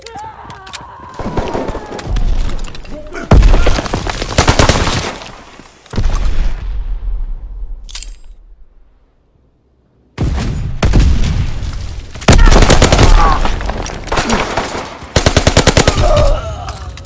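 Loud machine gun fire rattles in bursts in the Call of Duty: WWII team deathmatch on the Aachen map, with booming blasts, a few seconds of near silence, then heavy gunfire again.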